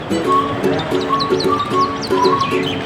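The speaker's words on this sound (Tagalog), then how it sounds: "Ayan mga daming ibon na nag huhunihan" Many small birds chirp and tweet in quick overlapping calls during rainfall in Taiwan, with a steady rain hiss underneath and a few faint low hums running throughout.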